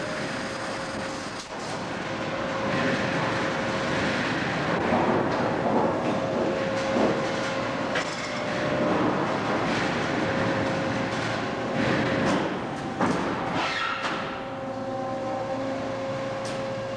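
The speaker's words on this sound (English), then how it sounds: "The stacker is designed to pick up the pre-slit panels and feed them onto a skidded stack." Industrial slit and shear line stacker lifting pre-slit sheet metal panels from a conveyor onto a skidded stack, a loud continuous mechanical rumble with a steady tonal hum and intermittent clanks, no voices.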